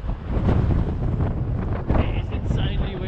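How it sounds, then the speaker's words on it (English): Strong wind buffeting a camera microphone outdoors on a windy shore during a unicycle trip, a constant loud low rumble with gusty swells throughout. "It is insanely windy down here"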